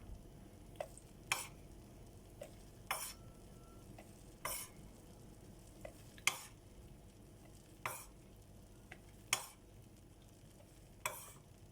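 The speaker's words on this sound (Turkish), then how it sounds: "iyicene çırpma teliyle ocağımıza almadan güzelce bir karıştıralım" Starch is whisked into milk with a wire whisk for homemade kashar cheese, a quiet series of regular scraping strokes about once every second or two, close and faint, with no talking.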